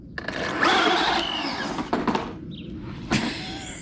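A homemade motorized toolbox with a scraping wheel revs up at full power, a loud whining motor surge lasting about a second and a half, then sputtering bursts and a final sharp clunk.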